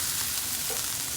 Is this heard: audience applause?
no